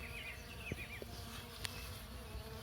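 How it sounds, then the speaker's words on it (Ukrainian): Many bees drone around poppy flowers outdoors, a continuous layered buzz with a few louder passes close to the microphone. It is fairly quiet, and no one speaks. "А скільки тут бджіл, дуже-дуже багато."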